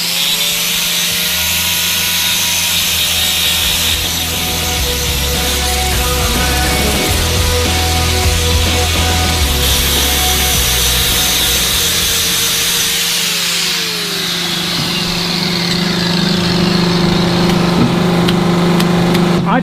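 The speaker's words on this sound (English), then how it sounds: "Just still measure the hoof, trim it properly." A power tool trims a dairy cow's hoof, producing a loud, steady whining and grinding that runs for about twenty seconds close by. Its pitch shifts and its low rumble comes and goes.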